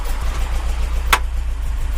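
Porsche 914 engine with dual Weber carburettors idling at around 800 to 1,000 rpm, a steady low rumble heard up close, broken by one brief sharp click partway through.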